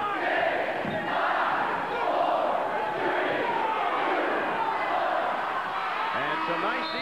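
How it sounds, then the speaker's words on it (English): A basketball arena crowd at a 1991 college game between East Tennessee State and Charlotte chants together in loud, rhythmic swells, a dense roar of voices filling the hall. "you'll listen to the crowd count it down"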